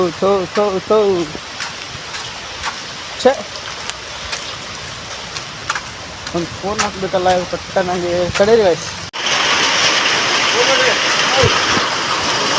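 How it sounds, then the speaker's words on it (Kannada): Heavy rain pours down outdoors as a steady broadband hiss, with people talking over it through most of the stretch before the downpour fills the last few seconds alone, loud and close. "ಗಾಯ್ಸ್ ಸಿಕ್ಕಾಪಟ್ಟೆ ಮಳೆ ಬರ್ತಿದೆ"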